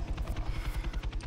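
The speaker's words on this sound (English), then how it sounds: "everybody back away from the helicopter." A video-game helicopter's rotor thumps in a steady rapid pulse, fairly quiet and continuous, with no talk over it.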